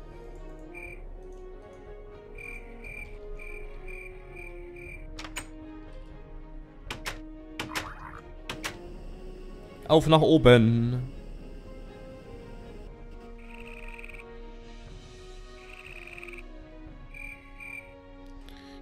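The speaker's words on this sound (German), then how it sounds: "Diese Grillen." Crickets chirping in the blocky game Minecraft, modded with Tekkit: faint repeated chirps over soft game music and clicking, with someone talking briefly and a louder burst midway.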